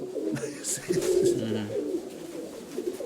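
Pigeons of an ornamental fancy breed coo in low, rolling phrases close by, with a brief murmur of voices in the background.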